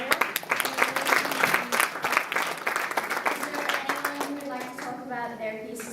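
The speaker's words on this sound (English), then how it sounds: "Can I have a round of applause for you?" A round of applause from an audience at an art exhibition, a dense burst of clapping that thins out over a few seconds, with voices talking over it.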